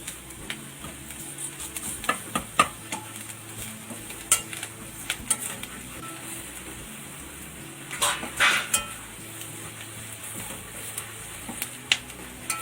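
A spoon scrapes and clinks against a pan while spices are mixed into chana masala gravy, with irregular sharp taps and scrapes over a soft low sizzle, fairly quiet and close.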